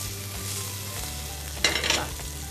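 Onions frying in hot oil, a low steady sizzle that swells into a louder crackling burst just past halfway before settling again, with no voices.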